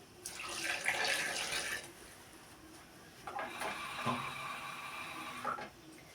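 Water is poured into a glass cup for melting butter, heard as two close splashing pours, one short and one longer, with a quiet pause between them.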